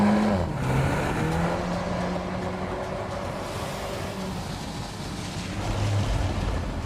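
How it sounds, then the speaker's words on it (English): A 2022 VW Golf R in drift mode, 315 hp, rumbles and whooshes past as a broad, steady roar of engine and tyre noise with a few shifting engine tones, moderately loud and unbroken. "The drift mode provides a lot of fun and allows the car to drift through torque vectoring."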